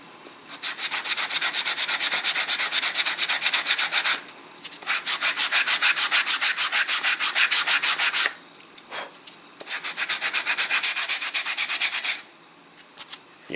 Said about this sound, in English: I need new sandpaper because that is just performing abysmally